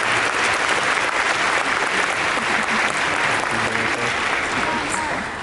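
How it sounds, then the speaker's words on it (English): A graduation ceremony crowd applauds families, loud sustained clapping from a large audience with a faint murmur of voices underneath, continuous throughout before easing off at the very end. "let's please take a moment to applaud our U-High families"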